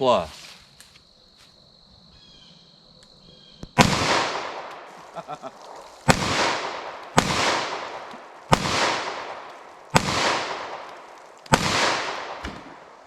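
Six loud 9mm +P+ 115-grain jacketed hollow point gunshots from a 5-inch M&P pistol, fired outdoors at pumpkins about 10 yards away. The sharp cracks come at steady intervals, each with a ringing tail, after a quieter opening stretch.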